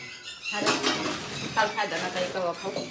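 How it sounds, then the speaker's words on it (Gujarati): Dishes and pots clatter in a sink with scraping, clinking, and running-water noise, fairly close, with a few louder knocks. "તો કાલના વાસણ ધોવાય છે"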